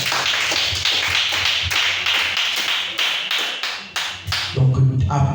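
A congregation in a church claps together in steady, fairly quick rhythmic beats that keep pulsing, then the clapping thins out near the end as voices come in.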